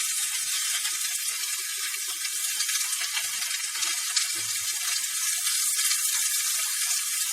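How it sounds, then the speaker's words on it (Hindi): Radish leaves cooking in a pan for radish curry, giving a steady, bright hiss of sizzling moisture that holds evenly throughout, close and moderately loud with no voices. "अब मैं इसमें पत्ते डाल दूंगी और बस पत्ते बनने तक इसको पकाऊंगी।"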